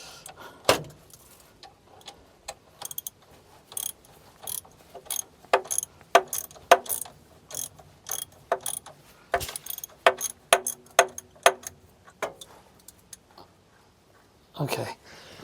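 Ratchet wrench clicking as it backs a bolt out of a Ford Flathead V8 starter, with bursts of rapid ratcheting strokes repeating in short runs, close up and fairly quiet, ending with a last quick flurry.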